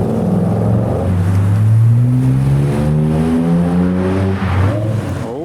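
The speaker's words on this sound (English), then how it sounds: "Oh, downshift from the M5." A BMW M5 engine roars close by, revving hard with rising and falling pitch as it downshifts, loud and continuous with a sharp blip near the end.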